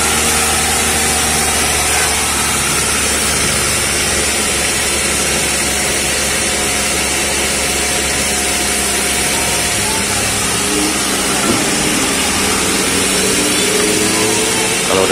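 A Toyota Avanza engine idles loud and steady during a radiator coolant change, a continuous even rumble with a mechanical whir, close and uninterrupted.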